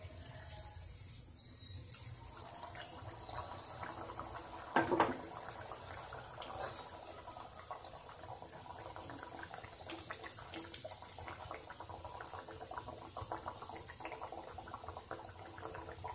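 Punjabi nimki dough pieces frying in hot oil in a kadhai over medium gas flame, a steady broadband sizzle and bubbling that runs throughout, with a brief louder crackle partway through and no talking.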